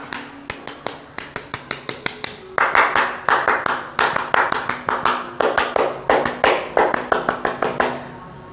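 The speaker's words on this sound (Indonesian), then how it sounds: "Tiga kali tepuk pramuka." Scouts performing the rhythmic Pramuka clap three times, sharp patterned hand claps in a fixed beat, first a lighter run, then two louder, fuller rounds by the group, close and crisp.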